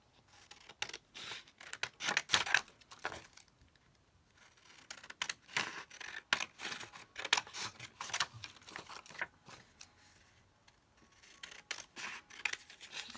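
Scissors snip steadily through paper while a picture is cut out, producing close, crisp cuts in irregular runs with brief pauses between them, and no talking.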